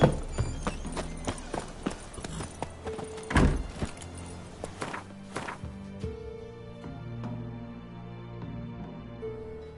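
Geralt's horse Roach galloping in The Witcher 3, hooves clopping in a quick steady rhythm up close, fading into quieter game ambience with soft tones afterward.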